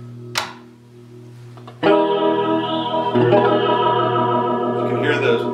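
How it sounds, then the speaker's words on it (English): Guitar through a homemade rotary tremolo effect switching to fast speed, a short pluck then a ringing chord whose warbling modulation quickens, with brief talk in the background. "You can hear the speed ramping up."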